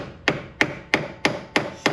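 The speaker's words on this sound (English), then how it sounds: "Let's see if we can get behind it with a screwdriver and use a body hammer" A body hammer taps a screwdriver wedged behind trim on a 1977 Corvette, six sharp, evenly spaced metallic knocks, each ringing briefly before the next, close and clear with no talking.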